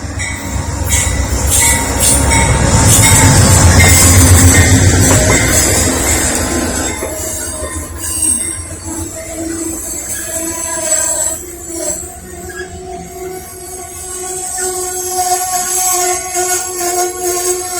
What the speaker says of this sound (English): Here comes the Amtrak.